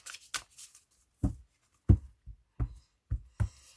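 Tarot cards being shuffled by hand in a series of soft, papery riffles and taps, separated by short pauses, close and fairly quiet with no talking.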